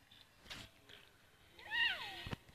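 A cartoon cat in the cooking game Toca Kitchen gives a soft meow, then a clearer, rising meow near the end, with faint clicks around it.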